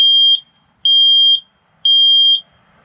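Three loud, high-pitched electronic beeps from a smoke alarm in a 6x6 Perentie ambulance, each about half a second long, evenly spaced with short silences between.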